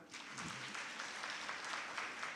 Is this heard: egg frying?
no